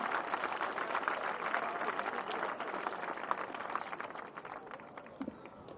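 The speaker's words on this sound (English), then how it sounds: "Please give them a round of applause." Crowd applause at the opening ceremonies of an ultimate frisbee championship, dense sustained clapping from a large outdoor audience, heard at a distance and slowly fading.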